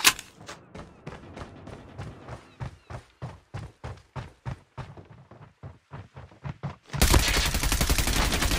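Rapid automatic gunfire in Call of Duty Mobile squad gameplay, a long run of close, evenly spaced shots that breaks off near the end into a loud, dense burst of noise.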